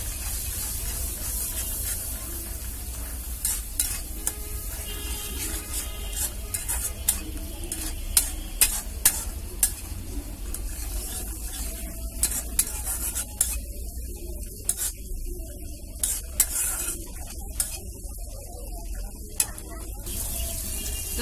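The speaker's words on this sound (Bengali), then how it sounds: "তো এই তো ডিমটা আমি তেলের উপরে ভালো করে ভেজে নিচ্ছি।" Rohu fish roe coated in spice paste fries in oil in a karai, with a loud, constant sizzle and frequent sharp metallic scrapes and taps from a stirring spoon throughout.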